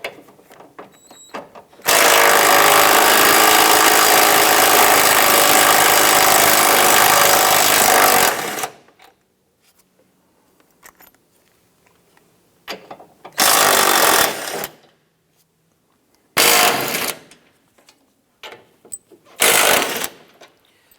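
A power tool loosening 15/16 strut tower brace bolts on a 2005-2007 Ford Five Hundred: one loud, sustained burst of about six seconds, then three shorter close bursts separated by quiet gaps.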